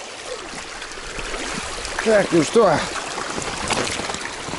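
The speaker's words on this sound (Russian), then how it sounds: "Вот я на реке нахожусь." A taiga river flows steadily, its broadband wash running under a voice speaking briefly, with a few louder watery surges near the middle.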